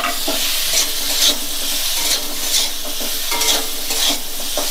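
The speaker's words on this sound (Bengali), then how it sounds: "আলুগুলো নাড়াচাড়া করে এর মধ্যে একটু লাল লাল মতন হয়ে ভাজা হয়ে যাবে।" Potatoes frying in ghee with chili powder in a pan, a constant loud sizzle broken by rhythmic scraping stirs roughly every second.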